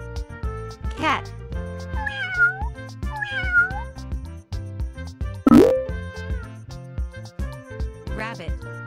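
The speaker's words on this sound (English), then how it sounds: "Cat." Repeated cat meows ring out over cheerful background music, with a sliding whistle effect in the middle.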